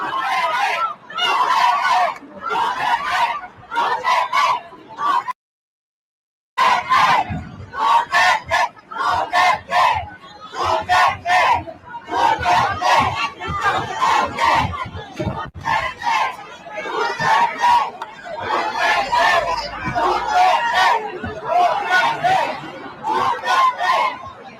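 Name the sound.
Filipino crowd shouting outside ICC detention centre in The Hague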